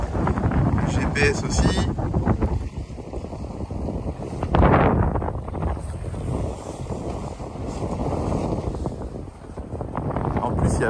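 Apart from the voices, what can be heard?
wind while sailing on a boat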